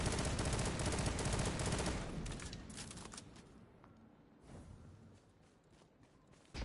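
The Lord of Wolves gun is hip-fired in a video game, a loud, rapid burst of shots at first that thins into scattered, fainter shots and rattles, with no talking.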